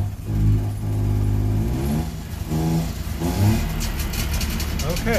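A two-stroke car engine runs and revs unevenly close by, with people talking over it.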